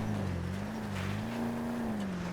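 Pegassi Vacca supercar in GTA Online: a steady, loud engine drone holding a near-constant pitch with slight rises and dips, continuous and up close with no talk.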